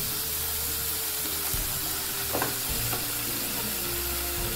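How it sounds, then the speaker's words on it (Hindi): Sautéed vegetables sizzle and fry in a pan for a Chinese-style Maggi noodle dish as soy sauce goes in, a steady close crackle with brief stirring scrapes and no talk. "तो हम लोग सबसे पहले सोया सॉस ऐड करेंगे"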